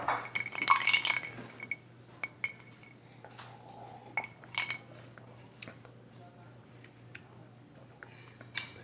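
Ice clinking against a glass of Booker's small batch bourbon whiskey, with bright glassy chinks clustered near the start and scattered clinks after, fairly close and quiet over a low steady hum.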